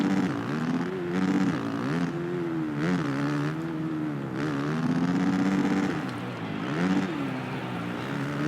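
A pack of supercross motorcycles, including a Yamaha and a Kawasaki, racing in Monster Energy Supercross 3, with loud continuous engine whine that rises and falls as riders rev through the track.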